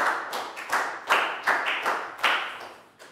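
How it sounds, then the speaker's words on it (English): A Year 4 class claps for a classmate in a loose, uneven rhythm, with bursts of several hands at a time rising and fading roughly twice a second. Fairly close and moderately loud, with no talking. "Big round of applause for Prel"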